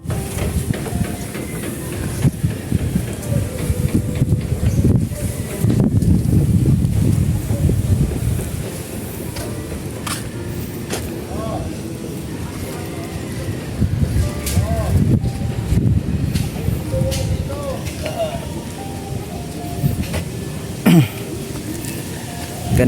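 Strong, steady wind blowing across an open hilltop outdoors, a continuous loud rumbling roar with gusts that swell and ease, while people talk intermittently underneath.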